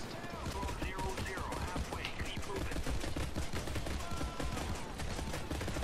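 Dense, rapid shotgun gunfire from a Payday 2 firefight, with overlapping blasts and sharp cracks throughout, busy and chaotic with no clear pauses.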